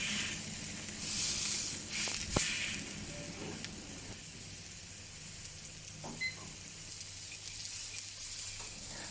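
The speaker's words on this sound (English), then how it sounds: "The whole process should not be more than 2 minutes for each side, or else the meat will start to turn dry. So, sear as quickly as possible." Pork tenderloin sears in a hot pan for a reverse-sear roast, giving a steady, moderate sizzle and hiss with a few sharper crackles and spits, heard alone without talk.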